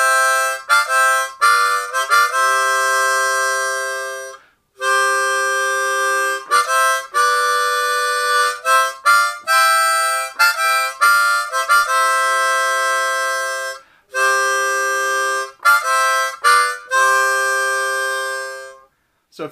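Harmonica plays a riff in an easy lesson arrangement, loud and alone, with bright reedy held notes broken by short pauses and a few longer breaths.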